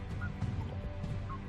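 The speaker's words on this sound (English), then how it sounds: "There's a couple more geese." Geese honk faintly in the distance outdoors, a few short calls over a steady low rumble of wind or background noise.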